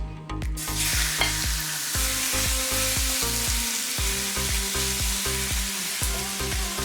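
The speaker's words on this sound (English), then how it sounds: "And we're just going to cook these off." Boneless skinless chicken thigh chunks frying in a pan give a steady, loud sizzle and crackle, with rhythmic stirring scrapes repeating throughout and no talk.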